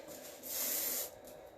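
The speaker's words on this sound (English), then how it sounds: "Little hairspray." A short, close burst of hairspray hisses from a can onto styled hair, rising sharply, holding for about half a second, then fading into quiet room tone.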